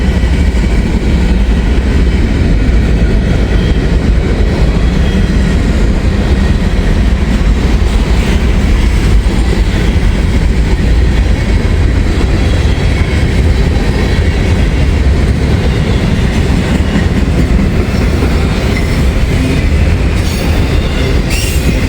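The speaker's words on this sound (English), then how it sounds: "Got a pretty good train here at M506." A train rumbles past close by, a loud continuous roar of wheels and rail clatter with occasional squeals, steady throughout with no gaps.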